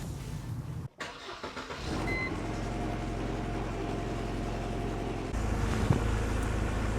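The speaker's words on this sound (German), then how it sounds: "Ich starte den Motor." A car engine cranks and catches after a brief silence, then settles into a steady idle with a low rhythmic thrum, stepping up to a slightly higher, louder idle near the end; heard close with no talking.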